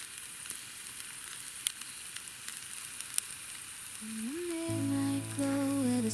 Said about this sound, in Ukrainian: зараз на пательню його туди на барбекюшечку і будемо смажити